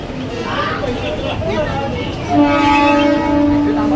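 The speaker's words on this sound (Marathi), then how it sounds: "ट्रेन आली आमची बदलापूर" A Badlapur-bound train rumbles past with a sustained horn blaring over it in the second half, amid crowd chatter on a busy platform.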